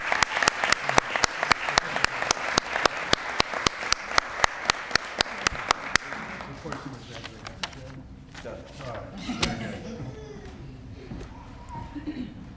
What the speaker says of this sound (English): I said we would cheer extra loud for him